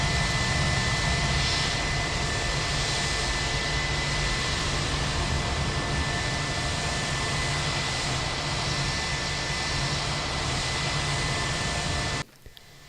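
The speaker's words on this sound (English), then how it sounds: "As the plane approaches the docking area, aligning it in the right path and stopping it at the right position becomes critical" An airliner's jet engines roar steadily as the plane approaches the airport docking area, a loud continuous broadband rush with a faint whine that cuts off abruptly at the end.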